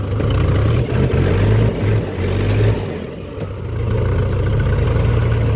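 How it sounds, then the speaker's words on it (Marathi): A farm tractor engine runs close by with a loud low rumble. It holds steady and rises and falls a little in revs, with no talking over it. "हा तो चालतो ट्रॅक्टर"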